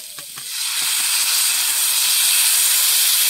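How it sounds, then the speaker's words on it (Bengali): Water is poured into a pan of sautéed vegetable curry cooked with chillies and hits it with a sudden loud hiss of steam that settles into a continuous, steady sizzle after a few faint clicks. "এবারে জল দিয়ে দেবো"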